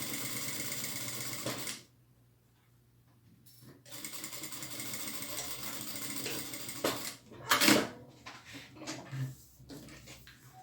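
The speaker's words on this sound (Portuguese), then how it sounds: "E eu faço uma costura de 1 centímetro." A sewing machine stitches a 1 cm seam through fabric for a padded placemat with a cover, a close mechanical whir that runs, stops for a pause, then resumes in uneven bursts.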